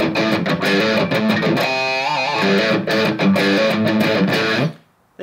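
Distorted electric guitar riff played fast with pinch harmonics, loud and continuous with squealing high overtones, then stopping suddenly near the end.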